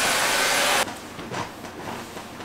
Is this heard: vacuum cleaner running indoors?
yes